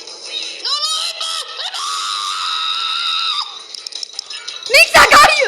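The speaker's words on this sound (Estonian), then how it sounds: "Miks sa karjud niimoodi?" A child screams in repeated shrill, wavering bursts during a lively zombie-themed game at home, loud and close, ending in a few sharp shrieks.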